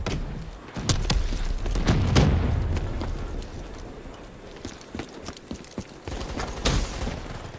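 Shotguns fire in a first-person shooter game, a scatter of sharp blasts and booms in irregular bursts, some loud and close, others lighter and spaced apart.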